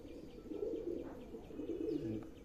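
Pigeons in a loft giving repeated low coos, soft and fairly distant, with faint chirps mixed in.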